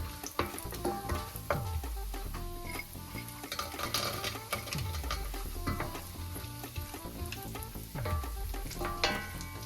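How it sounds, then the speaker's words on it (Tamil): Cashews and raisins fry in a pan for pineapple kesari, with a continuous close sizzle, repeated spoon scrapes and clicks, and some low thumping in the background. "இப்போ இதில் கஜுவையும் ப்ளம்ஸையும் போட்டு நாங்கள் வறுத்து எடுக்கணும்"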